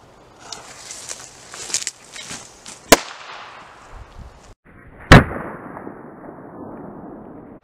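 A firework tested against ballistic gel sets off two sharp, loud pops a couple of seconds apart, close by, over a background of rustling and shuffling with no talk.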